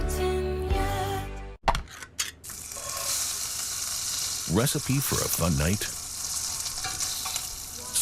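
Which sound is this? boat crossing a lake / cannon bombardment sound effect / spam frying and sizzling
spam frying and sizzling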